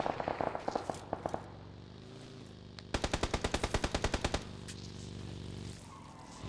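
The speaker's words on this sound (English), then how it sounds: "Someone else is shooting from back there." Automatic rifle fire in the battle royale game PUBG on the Miramar map: scattered single shots at first, then a tight rapid burst of about fifteen rounds mid-clip, fairly close and loud over a low rumbling background.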